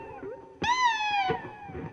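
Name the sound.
hungry kitten meowing for food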